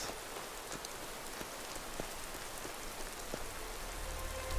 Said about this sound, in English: Oh, and now it's gonna rain.